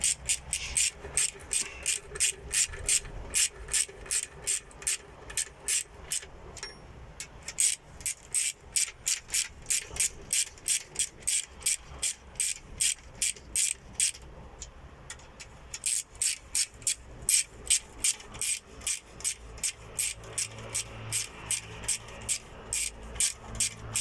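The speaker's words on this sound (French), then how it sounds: "Je suis en train de dévisser." A ratchet wrench clicks steadily in rapid bursts while parts are unscrewed and refitted on an engine block, the sharp ticks close and loud with a brief pause midway before resuming.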